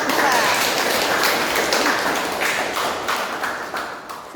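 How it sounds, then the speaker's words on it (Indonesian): Applause from an audience for a student group's presentation at a university teaching session, a steady crackling patter of many clapping hands that holds throughout and tapers slightly toward the end. "beri aplaus kepada kelompok"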